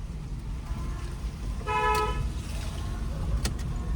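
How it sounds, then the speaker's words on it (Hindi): Car horn pressed and held for about a second, a bright harmonic honk over road rumble and engine noise while driving on a rough village road near a busy labour market area. "लॉन्ग हॉर्न प्रेस करिए"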